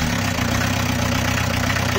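A diesel VW Golf 2 engine running steadily right after starting, a loud, even low rumble with a fast knocking pulse throughout, with no talk.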